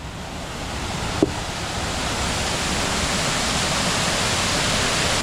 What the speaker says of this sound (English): Oh, it's another waterfall.